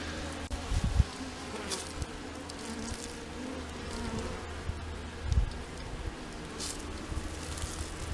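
Honey bees hum around an open hive during queen clipping and marking, a soft steady buzz close by with a few low thumps and handling bumps.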